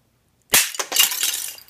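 A CD jewel case smashes with a sudden loud crack, followed by a scatter of shattering plastic shards and clinking debris that tumble and settle over about a second.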